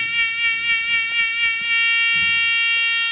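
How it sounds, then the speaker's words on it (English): An electric buzzer moved back and forth toward a microphone sounds continuously, its tone pulsing and wavering in loudness from the Doppler effect, then holding steady near the end. "switch on the buzzer and to move it backwards and forwards"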